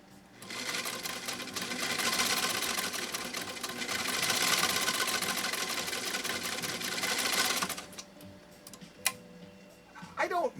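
A 1923 Singer 66-1 sewing machine driven by an aftermarket motor runs steadily for about eight seconds with a busy, slightly grinding whir, then stops, leaving a few faint clicks and handling sounds.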